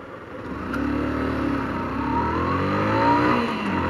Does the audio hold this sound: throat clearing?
no